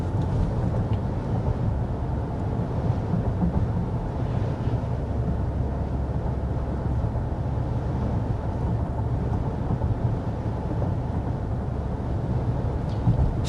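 Steady low cabin drone inside a 2025 Genesis GV80 Prestige cruising at 55 mph, a constant road and tire rumble with no talking.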